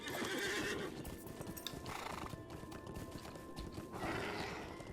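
A horse in the game Lord of the Rings Online, with steady clip-clopping hooves at a trot and a whinnying neigh rising near the start and again near the end, close and fairly loud, with no talk.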